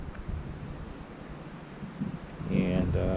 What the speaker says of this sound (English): Actually, it's gotten really breezy